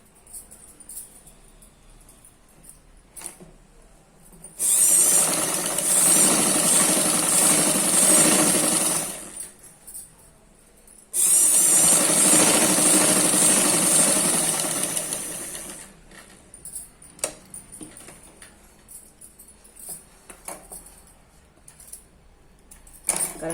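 A sewing machine stitches a chudithar top in two loud, fast-whirring runs of about five seconds each, split by a short pause. Quiet handling noises come before, between and after the runs.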